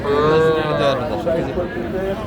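Cattle moo at a livestock market at Raniganj hat, where young heifers and bull calves are for sale. A loud, close, drawn-out moo is followed by a shorter lowing call over a busy background of crowd chatter.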